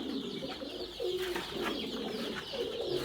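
Pigeons coo close by in soft, repeated throaty bursts, a few rounded calls over a few seconds with no talking.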